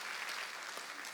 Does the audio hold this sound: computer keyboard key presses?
no